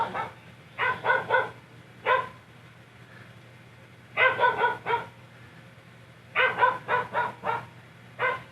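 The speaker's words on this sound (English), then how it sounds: "And the dog is barking now." A dog barks nearby in repeated bursts of three or four quick barks, with pauses between, over a low steady hum.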